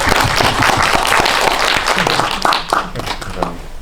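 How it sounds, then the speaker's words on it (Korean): An audience at a cinema talk event applauding, a loud dense burst of clapping that thins out toward the end as voices start speaking over it. "박수 쳐주세요."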